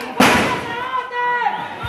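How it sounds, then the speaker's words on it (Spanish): A sharp, loud bang of police gunfire cracks out during an attack on a town in Jinotepe, Nicaragua, followed by a sustained tonal sound and shouting voices in a tense outdoor scene. "Oigan los disparos de la policía"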